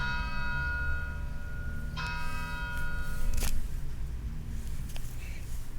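A bell rings out of nowhere partway through a podcast recording, its bright ringing tones sustaining and fading over a low steady hum, with a second strike near the middle and a sharp click after.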